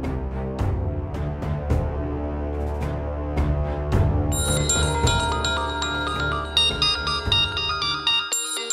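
A phone rings with an incoming call, a melodic electronic ringtone repeating its bright tune steadily and fairly loud, with no voices.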